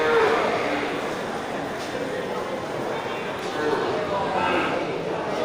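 Cattle low at a livestock market, their calls rising over a dense, noisy background of crowd chatter and milling activity.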